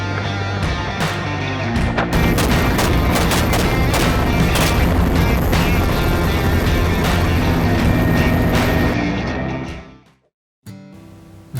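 Rapid gunfire from a helicopter during a hog hunt, many sharp close reports in quick irregular bursts over the loud constant thrum of rotor and engine, which cuts out abruptly near the end.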